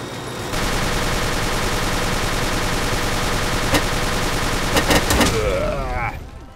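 Sustained, loud automatic gunfire rattles continuously in Ace of Spades, with a few sharper shots and a whooshing effect near the end before it cuts off.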